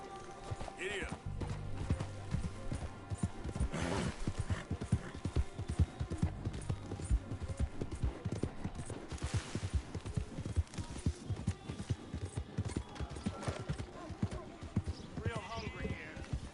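Galloping horse hooves in Red Dead Redemption 2 pound in a fast, rhythmic clip-clop that carries on throughout, with a voice speaking over it at times.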